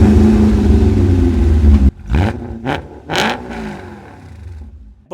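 A BMW E39 M5 sends out a deep exhaust note, revving hard in several sharp bursts toward its nearly 7,000 RPM redline, loud and close after a steady engine drone.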